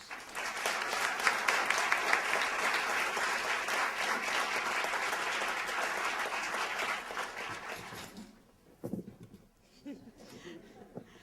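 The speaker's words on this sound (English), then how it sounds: "So please, big round of applause for Dr. Jacqueline Mondros" An audience applauds loudly and steadily for several seconds. The clapping fades out, leaving scattered claps and faint room noise.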